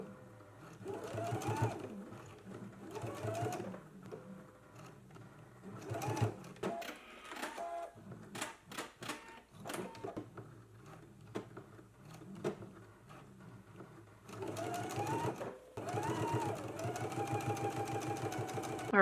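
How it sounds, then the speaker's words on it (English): A sewing machine runs top stitching along a dress waistband, in steady bursts of mechanical whirring broken by short pauses, with some bumps and handling noises between runs. "Let's go ahead and do our top stitch now."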